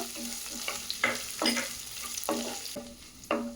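Onion frying in a pan for raw mango rice sizzles steadily while a utensil stirs it, with regular scraping strokes over a continuous close hiss.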